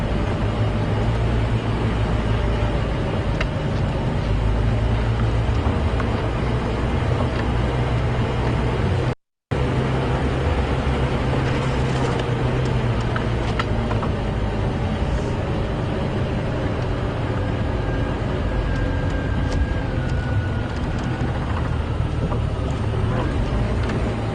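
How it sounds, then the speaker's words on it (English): A safari vehicle engine idles and crawls in low range with a steady low rumble close by, continuous throughout with a brief cut near the middle and occasional faint outdoor sounds. "put my vehicle into low range"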